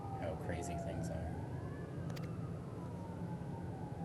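Police sirens outside a window, heard as a faint, distant wail that rises and falls beneath a steady low rumble.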